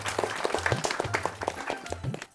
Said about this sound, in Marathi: वहिनींसाठी एकदा जोरदार टाळ्या झाल्या पाहिजे